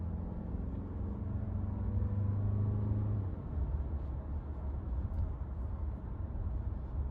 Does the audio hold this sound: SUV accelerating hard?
yes